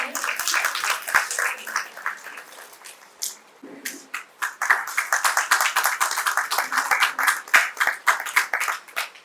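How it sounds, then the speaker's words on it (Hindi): An audience at a haldi wedding ceremony claps in a dense, sustained patter of many hands, briefly pausing before building again into steady, lively applause, close and fairly loud. "ताली बजाएंगे।"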